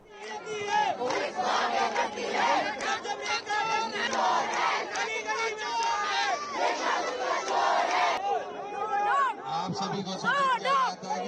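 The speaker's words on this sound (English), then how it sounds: "videos of the crowd chanting and holding banners are spreading online" A protest crowd at India Gate chants in loud, rhythmic unison, many voices shouting slogans close and energetic, with rising and falling waves of yelling throughout.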